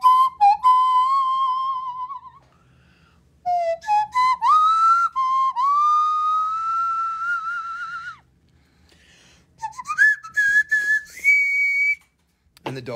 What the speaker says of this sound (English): Poppy, why are you blowing on the dog whistle?